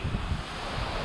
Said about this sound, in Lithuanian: O koks vėjas į nugarą, o koks vėjas į nugarą.